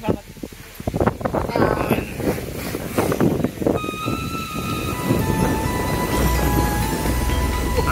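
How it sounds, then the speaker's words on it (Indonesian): Strong wind on a mountain trail gusts and buffets the microphone in a steady roar, with people talking over it and brief rustling near the start. "Anginnya banter."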